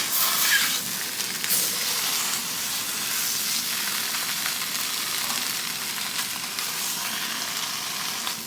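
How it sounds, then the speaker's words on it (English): Oscar Mayer pressed ham slices sizzle as they brown in a hot pan, a steady, close, bright frying hiss with faint crackles running throughout, no talk. "I'm actually going to separate these and let them brown a little bit."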